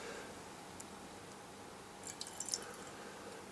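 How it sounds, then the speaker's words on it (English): Water is poured over a waterproof Cubot X10 smartphone, producing a faint, steady wash of splashing with a few soft drips and tiny patters clustered near the end, no voices. "I am gonna pour some water on it"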